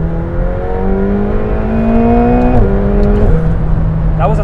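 A 2019 McLaren 720S with a 700 horsepower engine pulling hard in third gear, a loud, close engine note rising steadily in pitch, then a brief dip at the gear change before climbing again.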